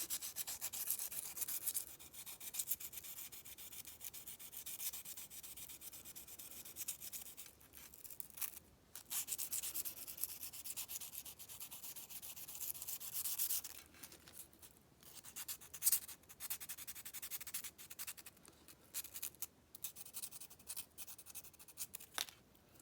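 A wooden handle for a tension turning tool is rubbed by hand with sandpaper, a faint, steady scratchy hiss in repeated strokes with brief pauses between passes.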